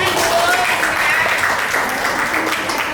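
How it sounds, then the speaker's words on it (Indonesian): Audience applause at a women's Islamic preacher training session, a loud, steady wash of clapping with voices mixed in underneath, lasting a few seconds. "Ayo tepuk tangan dulu."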